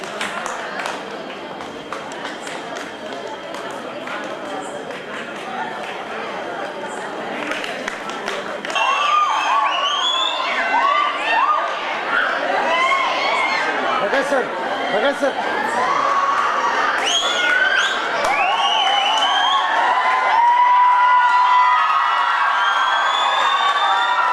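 Students at a college felicitation ceremony in Dharwad erupt into loud cheering, shouting and applause, a dense crowd roar that swells about a third of the way in and stays strong, with voices throughout.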